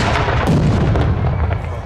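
Cannon fire at a fortress battle reenactment on a spring fortress day, a loud, sustained booming roar with rolling rumble that fills the whole moment.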